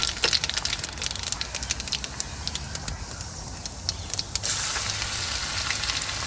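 Asafoetida and cumin seeds sizzle in hot oil and ghee for dal tadka, a steady loud hiss throughout with a brief flare of crackle partway through, close and continuous with no talk.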